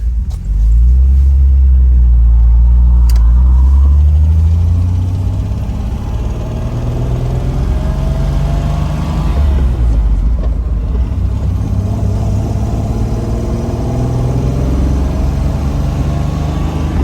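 A 1964 Lancia Flaminia 2.8 3C convertible driving on a cold road, its engine giving a loud, steady, close rumble that dips briefly partway through, then settles back into a smooth cruising drone.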